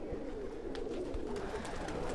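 Pigeons kept by a fancier coo softly in a low, murmuring rumble, with faint wing flutters and ambient noise around them.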